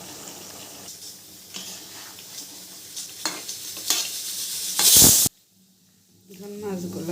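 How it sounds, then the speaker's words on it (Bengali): Hot water is added to a frying fish curry with vegetables in a pan. Steady stirring and sizzling build to a loud, sharp hiss when the water hits the hot pan, then cut off abruptly into quiet. A voice is heard faintly near the end. "এখন গরম পানি দিয়ে দেব।"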